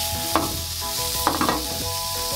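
Eggs hitting a hot pan with sausages over medium heat, a loud continuous sizzle broken by a few sharp crackling bursts and scraping stirs.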